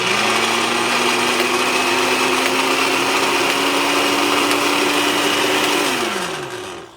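A Walmart Mainstays 6-speed blender whirs loudly and steadily for several seconds, then winds down as the motor slows toward the end.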